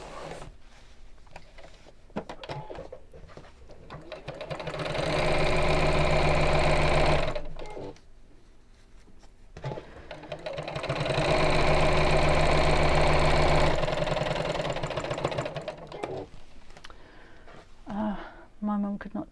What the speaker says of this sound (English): I'm going to sew all the way around the edge.